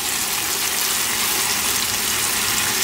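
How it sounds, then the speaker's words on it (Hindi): Water pours steadily into a jug that still holds leftover spice paste, a continuous broadband splashing gush lasting throughout at close range, with no voices. "ये जग में आपने थोड़ा सा पानी डालना है।"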